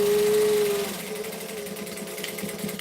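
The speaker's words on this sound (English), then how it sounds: "Make sure I backstitch at the top end." A sewing machine backstitches the top of a pocket seam on a garment. Its fast, steady stitching clatter runs under a brief tonal hum at the start and continues at moderate loudness to the end.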